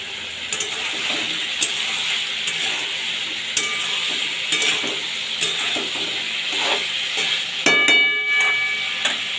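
Wild amaranth stalks and potato fry in a pan with a steady close sizzle, broken by scattered scrapes and stirring clatters throughout, with no talking.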